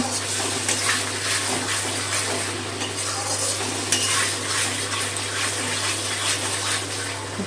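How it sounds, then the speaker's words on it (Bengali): Fish curry spice masala fries and is stirred in a pan over raised gas flame, a continuous wet sizzle with scraping spoon strokes throughout and a steady low stove hum beneath. "এখন একটু গ্যাসটা বাড়িয়ে দিলাম, দিয়ে আবারও ভালো করে কষিয়ে নেব"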